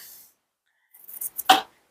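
Scissors snip adhesive tape into a small piece, a few quick close rustling cuts ending in one sharper snip, alone in a quiet room.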